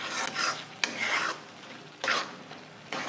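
Onion and tomato paste is stirred and sautéed in oil in a pan, with a scraping spoon rasping across the bottom in short bursts over a soft sizzle.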